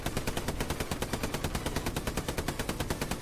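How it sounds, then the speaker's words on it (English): Rapid, evenly spaced bursts from a tank's coaxial machine gun in the World War II shooter Hell Let Loose, a continuous automatic stream of sharp shots at moderate level with no talking. "Gunner also has its own coaxial machine gun."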